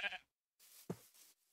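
A sheep bleats once in the Minecraft video game, a short clear bleat standing out between quiet stretches of soft game ambience.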